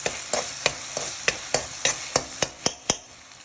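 Onions and ginger-garlic paste sauté in a pan for Chettinad mutton gravy, a steady sizzle under about a dozen sharp, regular spatula scrapes and taps, close and clear with no talk.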